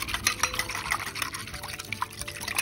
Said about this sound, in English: pour this mixture to a cooking pot or a pan on a very low flame